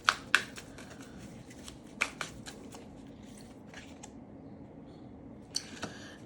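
Tarot suggestion cards being shuffled: a short run of crisp, close clicks and riffling snaps, a few sharp ones standing out, with quiet gaps between bursts.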